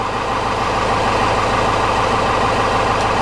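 A 4BT Cummins four-cylinder diesel engine, used and converted into a vehicle, running at idle: a loud, steady, close-up rhythmic clatter with a deep pulsing drone and no talking.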